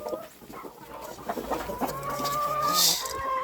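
Chickens being fed corn cluck close by in a busy, overlapping chorus, with a few higher squawks toward the end.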